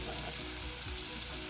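Chicken nuggets frying in a crowded pot of oil, a dense continuous sizzle and bubbling heard alone at close range.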